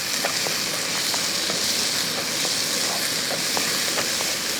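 Chopped tomato drops into a hot pan for Kerala-style idli upma and sizzles in a steady, loud, close hiss with faint crackles, with no talking over it.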